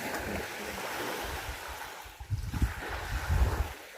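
Sea waves on the Tyrrhenian coast wash in softly with wind, a steady hiss that gives way to a few low, rolling surges and thumps toward the end.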